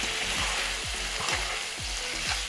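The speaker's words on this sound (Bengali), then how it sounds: "তারপর আমি ভালো করে নেড়ে নিলাম" Pasta being stirred through a hot pan with chili, salt and cream, giving a steady, close sizzle with repeated scraping strokes of the spoon, no voices.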